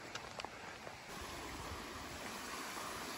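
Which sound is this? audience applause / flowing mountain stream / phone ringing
flowing mountain stream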